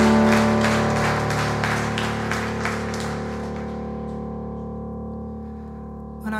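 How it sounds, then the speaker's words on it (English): A crowd applauds at a live concert in a dense wash of clapping that gradually fades out, with a steady musical hum underneath. "Give one last round of applause for the band."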